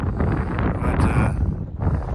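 Steady wind roars across open desert in a small town on Route 66, buffeting the microphone in a continuous broadband rush that swells and eases slightly, with no voices.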